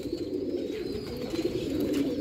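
Sialkoti chuhe pigeons coo on a rooftop in Sialkot, a continuous low, throaty murmur heard up close.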